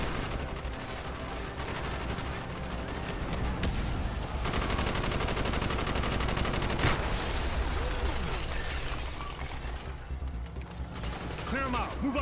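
Sustained gunfire rattles through a street fight in Call of Duty: Black Ops, with dense overlapping automatic bursts and shots over a loud battle din, and shouted voices mixed in.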